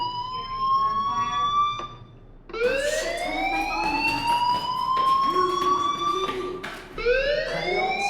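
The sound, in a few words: fire alarm ringing in video game Life Is Strange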